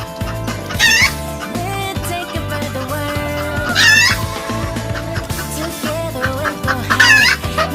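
Hens cluck in a backyard coop while laying eggs, loud and close, with a few louder cackling bursts over a constant murmur of clucking.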